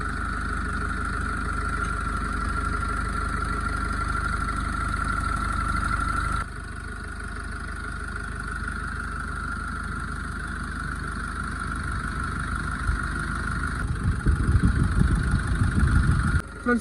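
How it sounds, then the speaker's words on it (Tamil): A Mahindra Xylo E4 engine with a coolant leak past a sleeve O-ring idles just after starting, giving a steady, close mechanical drone that drops slightly midway, with some rougher rattling near the end. "இந்த சைலோ E4 இன்ஜினை வந்து பார்த்தீங்கன்னா நான் ஸ்டார்ட் பண்ணிட்டேன்"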